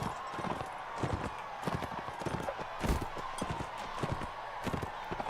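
Rapid rhythmic hoofbeats of a galloping horse in the video game Mount & Blade: Warband pound steadily and close, a continuous clip-clop with no talking.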